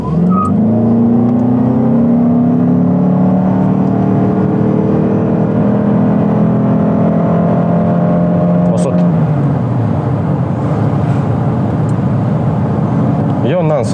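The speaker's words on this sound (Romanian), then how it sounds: "la vitezele astea mai mari, motorul strigă destul de tare" A Toyota car accelerates hard in sport mode, its engine howling loud and rising steadily in pitch through a long pull before easing off, heard from inside the cabin.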